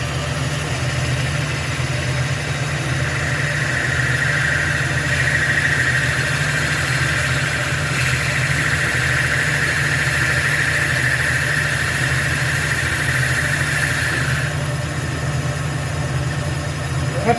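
Milling machine with its spindle cutting a groove into a workpiece, a steady motor drone with a sustained mid-pitched cutting whine holding for roughly ten seconds before stopping, close by and continuous.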